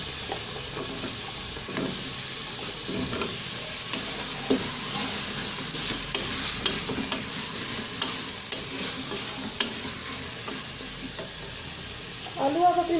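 Potatoes tipped into fenugreek leaves and masala frying in a pan for aloo methi, giving a steady sizzle with stirring scrapes and a short clatter near the end.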